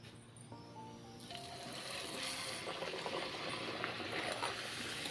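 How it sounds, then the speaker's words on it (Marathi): Spicy puris deep-frying in hot oil, a soft steady sizzling hiss that rises after a quiet start and holds on at low volume. "या ठिकाणी आता पुरी आपण तळून घेणार आहोत."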